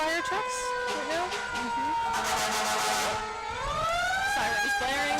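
Sirens from two fire trucks at a Fourth of July parade in Hingham sound as a sustained, fairly distant tone that dips and then swells upward, mixed with crowd noise and talking.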